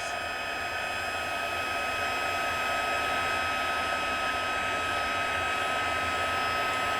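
A heat embossing tool on its hottest setting blows hot air in a steady, even whoosh, close and constant for the whole stretch with no speech.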